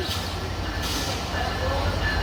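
The Rupshi Bangla Express intercity train, pulled by locomotive 6638, enters Bhanga Junction with a steady, loud low rumble of rolling wheels and engine that builds slightly toward the end.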